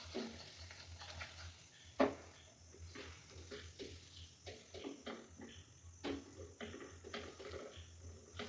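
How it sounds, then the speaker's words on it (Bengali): Malai barfi mixture stirred in a wok with the heat just turned off, giving soft irregular scraping and patting strokes at moderate loudness, one sharper knock near two seconds, no voices. "এটা আরও কিছুক্ষণ কড়াইয়ের মধ্যে নাড়াচাড়া করে নেব"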